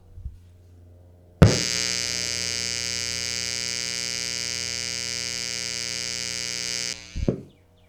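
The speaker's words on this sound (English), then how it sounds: "there is some noise out of this AC inverter" After a click, a loud steady electrical hum from the AC inverter of an Anker SOLIX C1000 power station, with a buzzy, harmonic-rich tone, switches on, holds evenly for several seconds, then cuts off abruptly.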